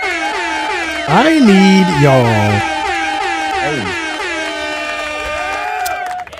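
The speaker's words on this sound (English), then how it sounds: "Y'all hear that air horn?" A loud, sustained air horn blares in several long, pitch-bending blasts that waver and slide, nearly continuous for several seconds, with a brief voice underneath.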